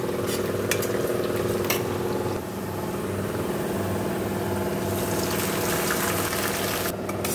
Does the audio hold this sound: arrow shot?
no